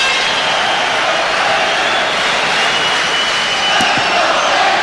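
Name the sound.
hockey arena crowd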